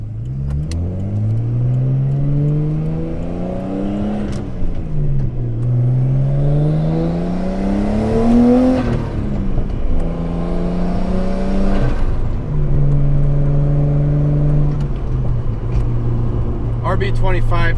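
Nissan R32 Skyline with an RB25 turbo upgrade and decat revs repeatedly while driving, loud and close, rising through the gears with clear pulls and drops between shifts.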